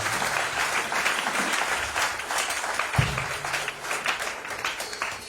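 A church congregation at a French-language Sunday service claps continuously, a dense, even wash of applause from many hands in a large room.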